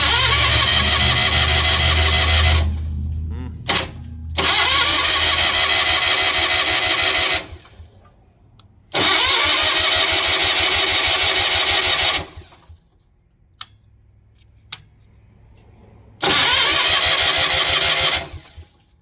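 A Miller AEAD200LE welder generator with the choke on and freshly cleaned fuel lines makes repeated starting attempts: its engine catches and roars loudly for a few seconds, then cuts out, four times, with quiet mechanical clicks in the gaps.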